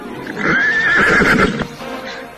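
A horse whinnies loudly and shrilly in one long, wavering call as people try to drive it away, then settles into a quieter snort.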